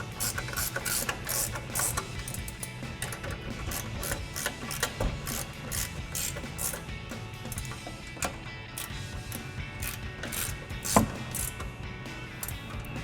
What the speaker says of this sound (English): grab our 15mm ratcheting wrench and tighten all 3 of those down